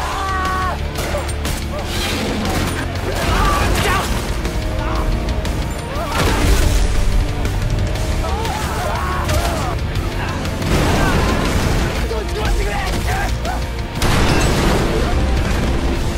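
Heavy booms, crashes and rattling gunfire from a Godzilla Minus One film scene, loud and continuous with dense layered blasts and music-like swells throughout.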